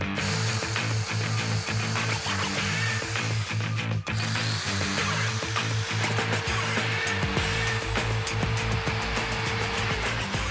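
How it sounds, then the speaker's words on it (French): A power saw cutting straight lines through thin MDF board in a workshop, a loud steady motor whine with a constant hum and a gritty cutting rasp, nearby and running without pause. "On a encore de la coupe de planche, mais avec du médium beaucoup plus fin, et c'est de la coupe droite."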